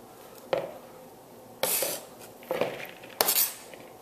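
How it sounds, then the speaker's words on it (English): Chopped smoked brisket tumbles into a bowl in a few soft, scraping clatters, each a short burst of meaty shuffling against the dish, near and moderately quiet with gaps between. "Just going to throw it in this bowl here."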